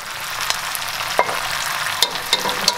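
Meat pieces fry in a pot for Thai massaman curry, giving a steady close sizzle with a few sharp pops and clicks spaced through it and no one speaking.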